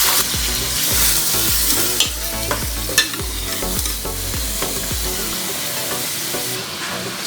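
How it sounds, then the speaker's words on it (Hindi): Chicken for tikka karahi sizzling and crackling in hot oil, with repeated stirring scrapes and clinks over the steady fry. "ये ऑयल बड़े ज़ोरों शोर से शोर मचा रहा है, तो मैं इसके अंदर ऐड कर दूँगी चिकन"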